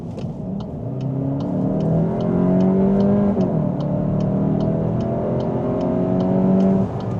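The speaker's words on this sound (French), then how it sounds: "t'as vu comment c'est sonorisé quand on accélère?" Volkswagen Golf 8 GTE (2025) accelerating up a motorway on-ramp to 130 km/h, a steady rising engine tone with gear-like pitch sweeps, heard from inside the cabin, continuous and moderately loud.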